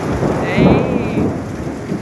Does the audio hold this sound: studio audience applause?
no